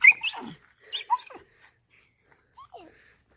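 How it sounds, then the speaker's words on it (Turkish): A puppy gives a few short, sharp yips followed by thin, high whimpers with pauses between, close and intermittent. "Minik hav hav."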